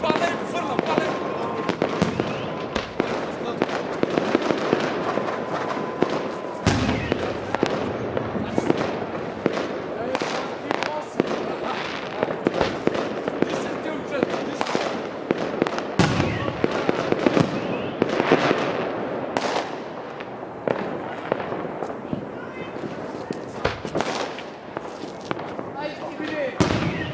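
Dense New Year's Eve fireworks over Plovdiv, with rapid overlapping bangs and crackles bursting throughout and a few sharp, louder reports standing out, while people talk and shout over the barrage.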